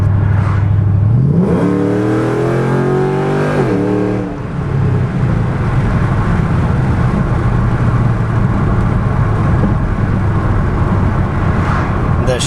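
A 2005-2009 Ford Mustang GT V8 on solid Prothane billet motor mounts revs up sharply once and falls back, then settles into a loud, rough, lumpy idle heard close up for the rest of the clip.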